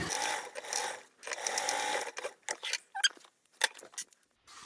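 A sewing machine stitches tote bag fabric in several short bursts with brief pauses between runs, heard close and fairly quiet, with no voices.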